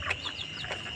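Forty-five-day-old backyard chickens cluck in short, close bursts, with a few brief calls scattered over a quiet farmyard background.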